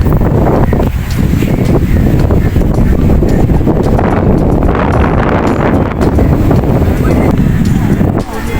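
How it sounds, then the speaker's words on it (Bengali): Strong wind buffets the microphone in a steady, heavy roar throughout, with a faint voice in the mix. "চারদিকে কিন্তু প্রচণ্ড বাতাস এই সময়।"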